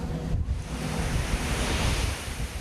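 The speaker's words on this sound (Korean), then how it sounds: "파도가 칠 때마다 바닷물이 폭포수처럼 쏟아진다" Heavy sea waves crash over a crab fishing boat at sea near Dokdo, a loud continuous roar of churning water and wind with no pauses.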